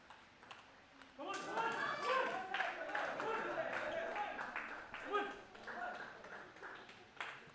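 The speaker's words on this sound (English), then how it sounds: "everybody along the sidelines are cheering both the players" Sideline spectators at a state table tennis championship match cheer and clap in a loud sustained burst of mixed voices and applause after a quiet start, fading slightly toward the end, with a commentator speaking over it.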